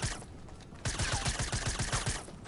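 Rapid bursts of gunfire from a shooting video game, a quiet opening followed by a dense, rhythmic run of loud shots that fades near the end.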